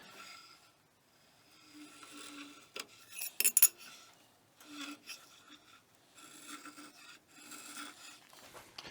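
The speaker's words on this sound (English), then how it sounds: "I'm going to scribe the edge, turn the knife over, scribe it again" Scribing the edge of a Damascus knife blade with a height gauge, quiet intermittent scraping and rubbing strokes of metal on metal with small clicks and pauses, close and faint, no talking.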